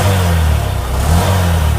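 An SP 125 BS6 motorcycle engine, just fixed for a pickup problem and running without knocking or misfiring, hums close and steady with slight swells in pitch as it is revved lightly.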